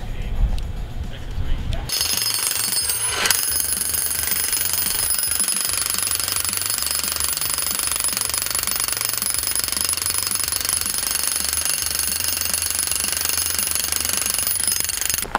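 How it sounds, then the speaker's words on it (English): Jackhammer breaking up concrete indoors, a loud continuous hammering rattle with a sharp metallic ring that runs almost unbroken after a brief opening burst. "So as you guys have seen, we've jackhammered this out."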